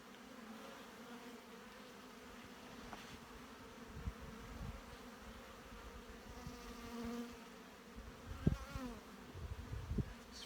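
Honey bees buzz steadily around an open hive, a dense low drone with a few louder passes near the end; no one speaks.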